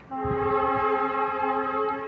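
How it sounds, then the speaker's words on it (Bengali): A train passing nearby near a lake gives a loud, sustained, horn-like tonal drone for about two seconds, with a low rumble beneath. No one speaks. "ওই পাশে দেখতে পাচ্ছেন ট্রেন চলছে"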